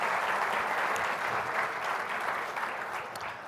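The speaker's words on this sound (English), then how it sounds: "Please give them all a round of applause for sponsoring this event." Audience applause at a sponsor thank-you during a Nevada public conversation event, a steady dense patter of many hands sustained throughout and easing slightly toward the end, with no talking over it.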